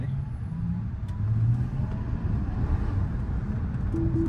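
A Tesla Cybertruck moving under self-driving control, with a steady low road and motor rumble and some tyre noise from inside the cabin, with faint tonal chimes near the end.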